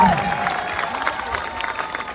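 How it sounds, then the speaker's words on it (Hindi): Audience applause in a hall during a public speech about Chhatrapati Shivaji Maharaj in Chandrapur, a steady dense patter of clapping with crowd murmur, held at an even level throughout. "इस बात के लिए एक बार ताली बजाओ"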